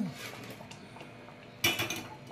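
A metal spoon scrapes the bottom of a cooking pot holding thickened dal dhokli, soft intermittent scraping that turns into a louder, sharper clatter of metal on metal near the end.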